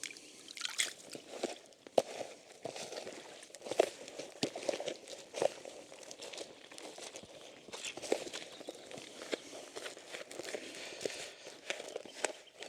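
Water poured into a dry fishing bait mix and stirred by hand, giving close, continuous wet sloshing and crunching with irregular scraping bursts and no talk.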